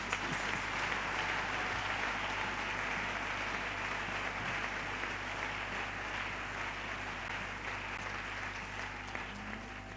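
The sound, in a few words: congregation applauding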